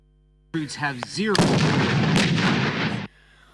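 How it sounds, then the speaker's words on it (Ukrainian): Loud, close machine-gun and grenade-launcher fire breaks out suddenly on an open firing range, a dense roaring barrage at mock targets that cuts off abruptly after a few seconds. "Гатять кулеметів і гранатометів по умовних цілях на відкритому полігоні."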